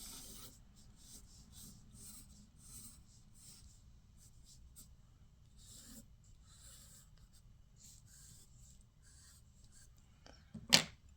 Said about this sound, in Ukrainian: ми намалюємо її простим олівцем спочатку, щоб нам було легше